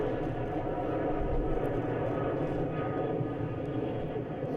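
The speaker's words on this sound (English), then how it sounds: "Is that the same aircraft just like taking off again?" A Delta jet airliner taking off, heard as a steady, loud broadband engine roar with a low rumble that holds constant throughout, no distinct talk over it.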